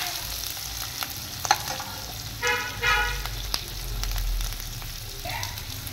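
Chopped onions for paneer butter masala fry in an oil pan, giving a steady soft sizzle with scraping stir strokes and a few louder bursts, while a vehicle horn toots faintly in the distance.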